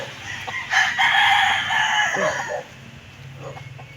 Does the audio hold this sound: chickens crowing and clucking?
yes